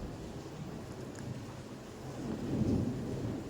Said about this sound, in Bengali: আমাদের এখানে কিন্তু খুব মেঘ ডাকছে, বৃষ্টিও শুরু হয়ে গেছে।